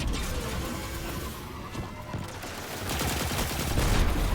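A Seventh Seraph VY-7 submachine gun fires in Destiny in a dense, continuous rattle of rapid shots that swells slightly louder toward the end, with no talk over it.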